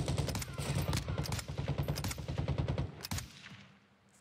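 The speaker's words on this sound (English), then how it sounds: "I hear shots over here." Rapid automatic gunfire in Call of Duty: Warzone, dense bursts of close shots for about three seconds. The firing then trails off into quieter rattles.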